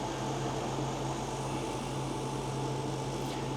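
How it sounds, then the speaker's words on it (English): Lidl SilverCrest portable air conditioner running on high fan speed in aircon mode, giving a steady, unbroken whir with a low hum underneath, close and constant throughout. "It is just a dehumidifier, an air conditioner and a fan."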